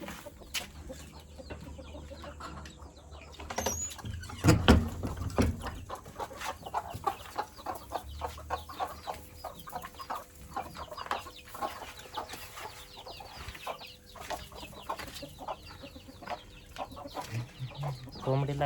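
Chickens clucking and pecking around a village poultry coop, scattered soft clucks from several birds near and far with occasional louder bursts and a rooster faintly in the mix; a person speaks at times.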